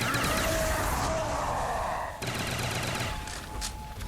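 Sustained rapid gunfire from a Black Ops Zombies game, a dense, loud burst of automatic shots with a brief break midway before the firing resumes.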